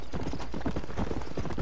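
Horse hooves clip-clop steadily in Red Dead Redemption, a rapid, even rhythm of close, loud footfalls that runs through the whole stretch with no talking.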